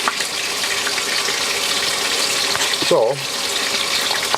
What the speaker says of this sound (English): I'm going to wash my hands because it's not good touching loads of raw meat